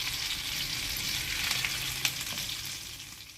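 Vegetable cheese cutlets fry in hot oil with a steady, dense sizzle that fades slightly near the end, broken by a single faint clink.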